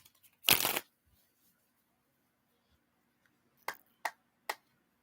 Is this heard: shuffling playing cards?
yes